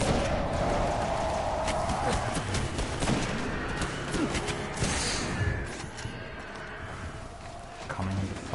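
Rapid gunfire in the video game Destiny, dense bursts of shots crackling over a busy, loud game soundscape with thumps and impacts throughout.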